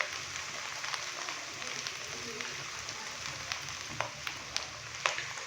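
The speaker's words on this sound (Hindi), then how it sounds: "अदरक और लहसुन का पेस्ट डालने के बाद अभी अच्छे से मिक्स करेंगे और हल्का सा फ्राई कर लेंगे" Ginger garlic paste fries lightly in a pan for a Kashmiri chicken masala, giving a steady soft sizzle with scattered sharp crackles and pops.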